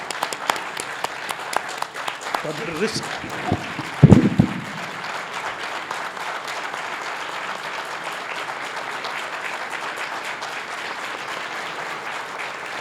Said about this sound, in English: you all let us give once more a standing applause